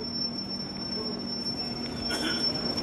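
A train pulling into a station platform, its wheels squealing in a long, steady, high metallic whine over a low rumble, moderately near, with no talk.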